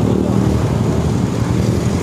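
A Kawasaki D-Tracker motorcycle with its standard exhaust revs up close by, making a loud, continuous, rough engine roar that holds steady for about two seconds.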